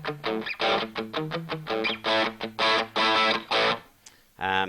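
Distorted electric guitar chords from a Tokai Silverstar Strat copy through a Ceriatone Creme Brulee tube amp, played in short, punchy bursts with a gritty, crunchy vintage Marshall-like tone, loud and close, ending with a brief pause before a final strum.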